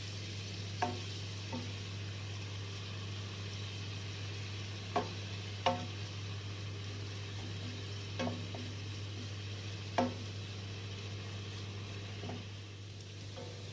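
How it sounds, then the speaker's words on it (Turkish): Onions fry in butter in a pan with a soft, steady sizzle under a low hum, broken by a few sharp clicks and scrapes as they are stirred, no voices. "Yağım kızmaya başladı ve soğanlarımı ekliyorum."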